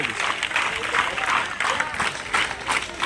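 A crowd claps in a burst of applause, fairly loud and uneven, with a few voices mixed in beneath the clapping.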